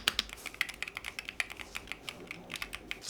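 Keychron Q6 Max keyboard with Hall effect banana switches being typed on steadily, a quick run of soft, fairly faint clacky keystrokes close by, with no voices.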